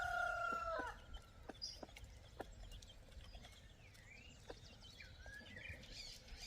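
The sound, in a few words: rooster crowing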